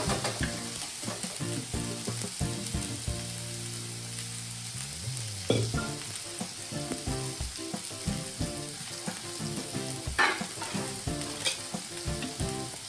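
Mixed vegetables for Bhogichi Bhaji fry loudly in a pan as chutney and salt are added, a dense, steady sizzle with repeated spatula scrapes and clinks against the metal.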